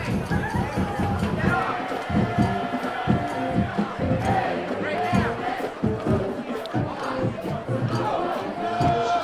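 A high school football game crowd with cheerleaders and band cheers and shouts in a dense, continuous roar of mixed voices and rhythmic chanting, with a commentator speaking over it.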